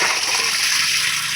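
Water pours steadily and loudly over cauliflower florets in a kitchen while they are rinsed and drained. The close, continuous gush and splash runs without pause, and no voices are heard.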